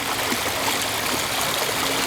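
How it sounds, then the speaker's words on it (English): Water runs steadily down a creek in a waterfall garden showroom, a continuous close rushing and trickling flow with no pauses. "horseshoe type of thing with the water coming down the creek"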